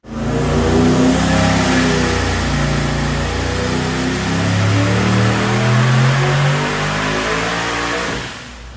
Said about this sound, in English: Kyle's going to continue on with the dyno